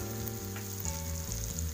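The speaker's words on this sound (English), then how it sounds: "Add 1 tablespoon of ginger garlic paste." Ginger garlic paste sizzling in hot oil with tomatoes for veg fried rice, a short, steady crackling sizzle under a low background music bed, with no voices.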